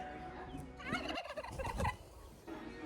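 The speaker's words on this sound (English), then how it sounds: "how fun it is catching these chickens" Fowl gobble and cluck in a short burst of throaty calls that rises and falls over a few seconds, fairly near and fairly quiet, with no talking.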